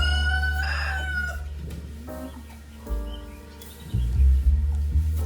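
Chickens cluck near a coop while a rooster lets out a loud, clear crow early on, followed by scattered clucks and low grunting calls, close and with no people talking.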